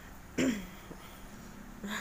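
A single short cough up close, with a second faint one at the end, against a quiet room.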